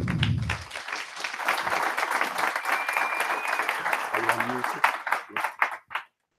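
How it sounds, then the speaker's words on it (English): An audience applauds speaker Pat Meenan at a London web performance meetup, a dense roll of clapping that holds steady for several seconds and then thins to a few scattered claps before stopping. "I'd just like to give a big round of applause to Pat"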